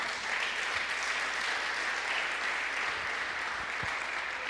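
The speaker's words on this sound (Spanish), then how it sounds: "Denle un aplauso al Rey de Reyes." At a church service, a congregation claps for the King of Kings in an even, continuous roar of applause from many hands, steady and fairly full throughout with no talking over it.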